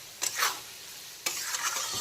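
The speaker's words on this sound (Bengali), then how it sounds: "টমেটোটাকেও এখন খুব ভালো করে ভেজে নেব কিছুক্ষণ পেঁয়াজের সঙ্গে।" Tomato and onion fry in a pan with a soft sizzle, broken by two bursts of scraping stirring, close and fairly quiet with no talk.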